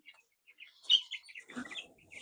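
Meat chickens in a pen being cleaned out give short, agitated clucks and chirpy calls, a few scattered near sounds building into a busier flurry toward the end, with no talk.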